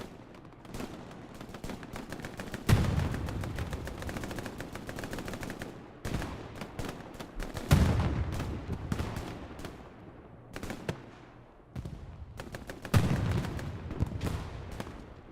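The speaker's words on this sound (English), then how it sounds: "I think the Puma is shooting at the Stuart tank." In the video game Hell Let Loose, a Puma armored car fires on a Stuart tank: loud bursts of rapid gunfire repeat throughout, with heavier booming blasts at roughly five-second intervals and no voices.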